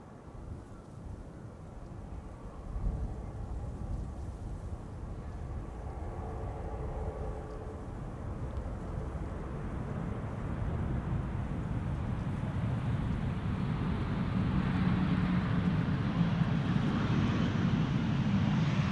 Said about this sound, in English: Next airplane to come in, Transavia flight 6006 arriving from Salzburg.